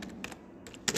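Keys on a computer keyboard clatter as a program is typed, in a few quick, close bursts of clicks with short pauses between them.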